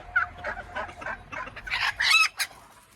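Chickens cluck and squawk in a rapid series of bursts close by, rising to louder agitated calls near the end, with no voices present.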